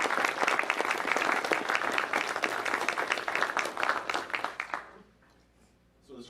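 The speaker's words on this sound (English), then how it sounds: "please join me in applauding this remarkable squadron" Audience at a 436th Training Squadron change of command ceremony bursts into loud, dense applause that carries for several seconds, then tapers off sharply into near silence.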